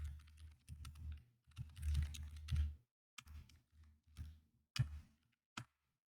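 Code typed on a computer keyboard in bursts of rapid, close key clicks separated by short pauses, with a few sharper isolated keystrokes near the end and no voices.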